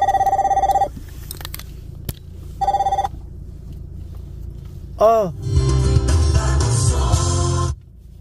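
An incoming call rings on a phone: a short electronic tone bursts twice with a pause between, then a brief rising chirp leads into a louder, longer ringtone. Someone speaks faintly in between.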